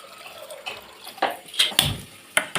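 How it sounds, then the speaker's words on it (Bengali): Water is poured into a pressure cooker holding peas in a home kitchen: short splashy bursts with a few light clinks of the pot, fairly faint. "মটরটা প্রেসার কুকারেতে দেবো। পরিমাণ জলটা দিলাম"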